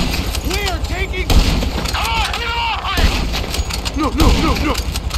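Gunfire in Grand Theft Auto, loud and dense, bursting repeatedly throughout amid a busy game mix, with voices shouting underneath.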